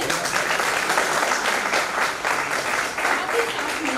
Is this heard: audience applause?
yes